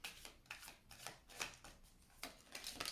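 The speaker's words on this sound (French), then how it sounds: "J'avais envie d'aller voir dans le tarot romantique, aller chercher 3 cartes" Tarot cards are shuffled and drawn up close, a quiet run of crisp riffles and slaps in an uneven rhythm, with no voice over them.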